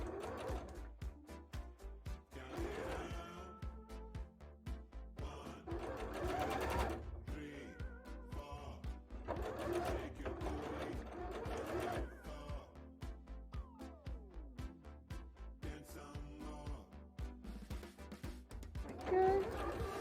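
A sewing machine runs a straight running stitch on a handmade rainbow bra, its close mechanical whirring in bursts with brief pauses, while a person talks over it.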